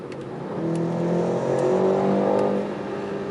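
A 2020 BMW M8 Competition with a 625 hp engine accelerates hard in a tunnel, its rising engine note swelling for a couple of seconds, then easing off slightly, loud and close with no talk.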